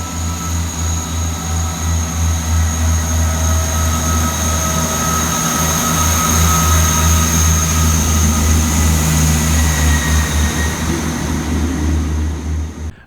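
Diesel multiple unit 158881 pulls away from Southampton Central on a South Western Railway service from Salisbury to Romsey, its engine droning loud and steady throughout with rumbling wheels and faint high whine.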